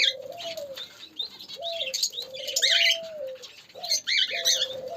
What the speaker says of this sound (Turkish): Aa, burada da papağanlar var